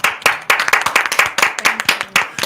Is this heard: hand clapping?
yes